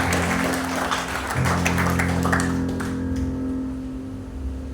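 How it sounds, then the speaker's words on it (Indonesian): Applause from a church congregation at a worship service, a steady clatter of clapping with sustained instrumental tones from the band beneath it, fairly loud and fading slightly toward the end. "beri tepuk tangan dulu saudara"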